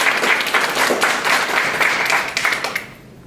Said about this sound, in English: Let's round of applause, please.